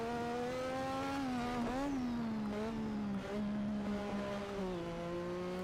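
A classic Formula 1 car in a racing game at the Singapore Grand Prix, its engine screaming at high revs and bouncing off the rev limiter, loud and continuous, with the pitch dipping and climbing between gears.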